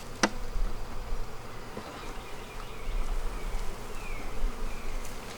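Honeybees buzz steadily around a weak beehive troubled by wax moths and hive beetles, a dense continuous hum filling the whole stretch with no talking.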